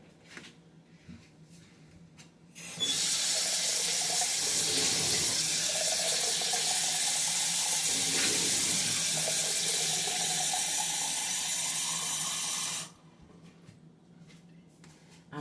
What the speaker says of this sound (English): So, I'm going to get myself some water,